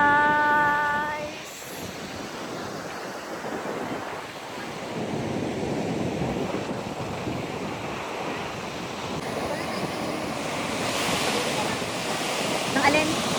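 Steady wind roars over crashing surf at a beach near Gwangan Bridge in South Korea, a continuous and fairly loud wash of noise.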